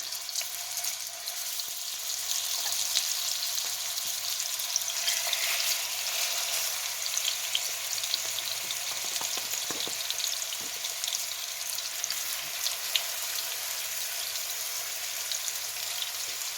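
Salisbury steak patties frying in hot oil in a frying pan, a steady bright sizzle and crackle that holds evenly from start to finish with no talking.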